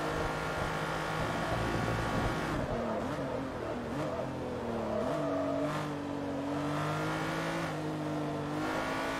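A 12-cylinder prototype race car in Forza Motorsport 3 howls steadily through its gears, pitch rising and dipping with shifts over a continuous loud engine drone.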